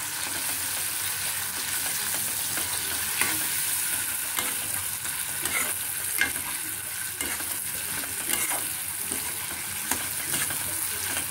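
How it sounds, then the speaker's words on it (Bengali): Ground melon seed paste sizzles in a pan for raw banana kofta, a dense, even frying hiss with soft scraping strokes of stirring throughout, close and continuous. "মগজ বাটাটা দিয়ে একটুখানি নাড়াচাড়া করার পর"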